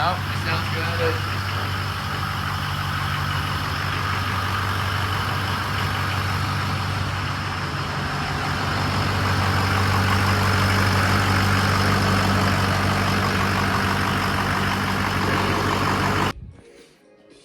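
A truck engine, warmed up to full temperature after a warranty repair, idles with a loud, steady low rumble under voices. It cuts off abruptly near the end, leaving quiet.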